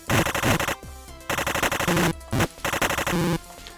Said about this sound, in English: Machine gun on bandit wagon arrived.